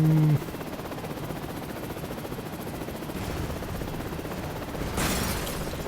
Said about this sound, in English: Guess it's a good thing we did grab the helicopter then.